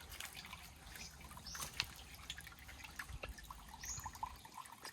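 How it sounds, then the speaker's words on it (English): Shallow creek water trickles over a small waterfall with a drop below, a faint, steady babble with scattered drips and splashes, quiet and alone. "This could be like a little waterfall."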